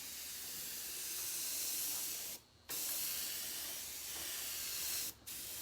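A brand new airbrush gun sprays a steady, close airy hiss that cuts out briefly twice, once near the middle and again near the end.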